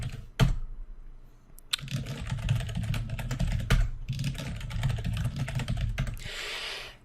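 Someone types a new user's password on a computer keyboard, a close run of quick key clicks with a sharp clack near the start and a steady patter afterward, no speech.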